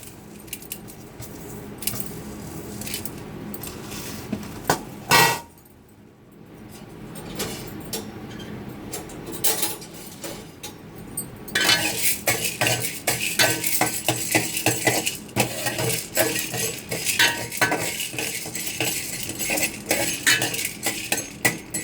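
Chana dal and urad dal dry roasted in a pan, close rattling and scraping of lentils against metal with clinking stirring, growing busier and more continuous in the second half.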